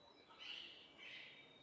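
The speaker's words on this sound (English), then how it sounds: "Sounds like parrots though." Parrots or parakeets calling in Istanbul, two faint high-pitched chirping bursts heard at a distance over a soft background hiss.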